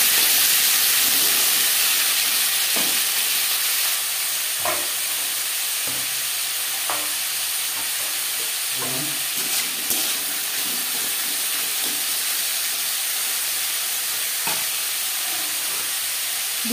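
Potatoes hit hot oil in a kadai wok still holding traces of egg bhujia, and a loud, continuous sizzle runs throughout, broken by occasional scraping stir sounds.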